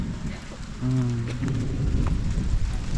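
Steady rain falls on a rural Lao building site where a hut is being built without nails, a dense even hiss with a brief tonal hum near the start and no talk.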